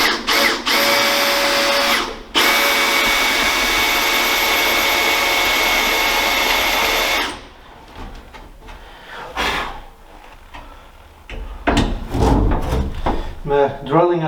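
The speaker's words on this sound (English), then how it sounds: "I'm drilling at an angle now because I'm running off the bolt a little bit" A power drill bores at an angle into a welded steel stump on a tank gun cradle, whining steadily and loudly for several seconds before stopping, followed by scattered clanks and tool handling.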